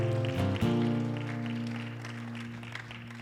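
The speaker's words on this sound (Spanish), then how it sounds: "applause to the Lord and stand up." Church congregation applauding under sustained organ or keyboard chords, a soft, distant patter of clapping that gradually thins while the music holds.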